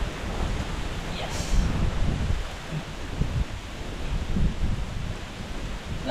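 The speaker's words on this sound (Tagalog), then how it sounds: "Lakas ng hangin, no?" Strong outdoor wind during grass cutting roars and buffets the microphone in a steady, rumbling rush, swelling and easing in waves with no voices.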